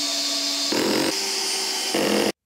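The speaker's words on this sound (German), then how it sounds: "dann einfach mit einem Akkuschrauber" Cordless screwdriver driving screws into an IKEA Trofast wooden shelf, steady whining motor runs alternating pitch as the screws seat, close and loud, ending abruptly in silence.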